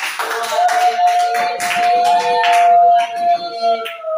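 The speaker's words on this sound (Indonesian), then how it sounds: "tepuk tangan buat kalian semua." Students in a class clapping their hands together in a fairly even rhythm, close and loud, with a sustained tone ringing underneath.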